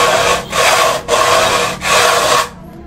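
Scraper head of a black screw rasping across Hardieflex fiber cement board, three loud close scraping strokes of about half a second each with short pauses, no talk.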